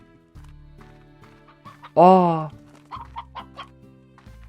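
A chicken in the video game Slime Rancher lets out a loud, drawn-out cluck followed by several short clucks, with a steady electronic hum underneath.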